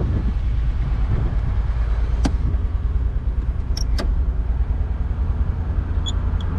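A 1966 Ford Thunderbird convertible engine runs close by with a steady, low, throbbing rumble, with a few brief sharp clicks heard over it.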